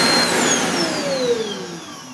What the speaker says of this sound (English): let's see how the suction's improved